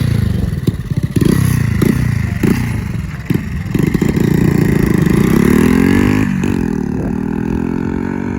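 A 125cc motorcycle fitted with a 19-tooth front sprocket and standard rear sprocket makes a test run on a closed road into a headwind. The engine revs loudly and close, with repeated gear-change dips followed by a long rising acceleration.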